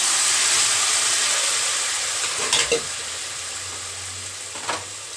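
Boiled potatoes dropped into hot spiced oil in a pan for Bengali sukto, a steady loud sizzle and hiss throughout with a couple of soft clatters as the potatoes go in.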